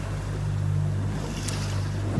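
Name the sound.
ocean waves heard from a boat offshore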